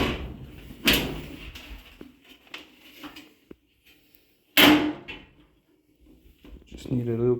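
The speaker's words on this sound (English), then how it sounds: "we'll close back this door and just close the hood" A clothes dryer door and then its hood shut with two sharp slams, spaced several seconds apart, among smaller clicks and handling knocks, with a person talking in between.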